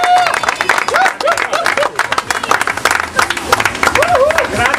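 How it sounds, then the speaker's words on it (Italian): Applause and crowd noise for the third-place team at a night five-a-side football (futsal) awards ceremony, with steady clapping throughout, whistles and voices mixed in. "I terzi classificati, Pantone, bello applauso al Pantone."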